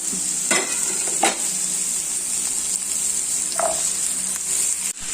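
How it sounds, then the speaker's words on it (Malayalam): Small onions sautéing in a pan for a Kuttanad-style duck roast, a steady close sizzle with a few scraping stirs of a spatula, no voices. "ഇത് നല്ല നന്നായിട്ട് വഴറ്റിയെടുക്കണം നമുക്ക് ചെറിയ ഉള്ളി തുടങ്ങിയതാണേ"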